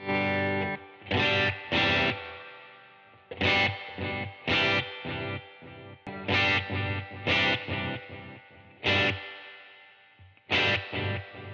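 Distorted electric guitar chords through an analog delay pedal set to dotted eighths strike in bursts, each followed by repeating echoes that trail off between strums.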